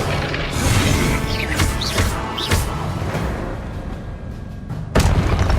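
Spell blasts in the Hogwarts Legacy game, including the Confringo blasting spell, land as a run of loud booming, crashing bursts over a dense rumbling battle din, with a final sharp blast near the end.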